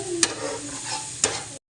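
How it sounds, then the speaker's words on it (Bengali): Spices and salt stirred in a hot cooking pan, a brief steady sizzle broken by two sharp scrapes of the spatula, close up, ending abruptly. "এখন আবার একটু নেড়ে দেবো।"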